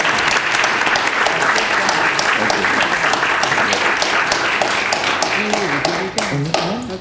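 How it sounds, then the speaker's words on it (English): An audience at a December 2011 oath of office ceremony in Cupertino gives loud, steady applause for the mayor, with some individual sharp claps, and voices and brief speech emerging near the end. "let's give your dad a big round of applause."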